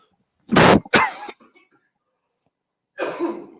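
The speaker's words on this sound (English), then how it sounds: "Been battling a cough left and right." Two harsh coughs in quick succession, then a pause and a softer throat-clearing cough, close and alone.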